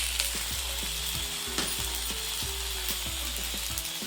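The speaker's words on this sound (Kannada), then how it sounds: "ಸೊ ಇದು ಸಾಸಿವೆ ಚಟ್ಪಟ ಅಂತ ಸಿಡಿದ್ಮೇಲೆ" Mustard seeds sputter and pop in hot oil in a pan while a tempering is made for okra sambar. The crackling is rapid and irregular, close by and steady, and there is no talk.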